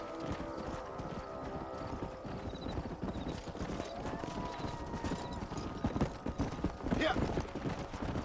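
Horses' hooves clip-clop steadily in the Red Dead Redemption western game, a rhythmic trotting close by, with a short whinny near the end and voices talking over it.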